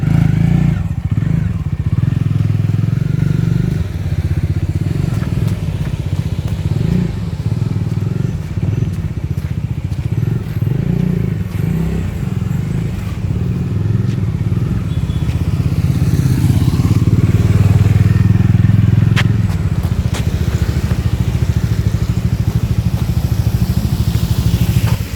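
A 2020 BS6 Bajaj Dominar 400 motorcycle cruises on an open road, its engine droning steadily for the whole stretch under constant wind rush, with slight swells in throttle and occasional bumps.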